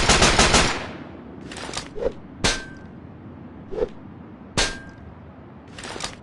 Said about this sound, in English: let me shoot this box open